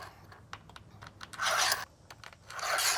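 Square-headed bolts slide into a metal track, making scattered light clicks and taps, then two longer gritty metallic scrapes as they glide along, close and moderately loud with no talking.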